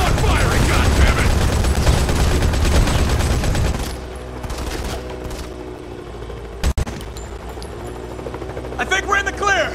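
Gunfire in the Modern Combat 5 first-person shooter: dense, loud bursts of automatic weapon fire for the first few seconds, then quieter mechanical sounds and a sharp bang, with shouted voices over the action.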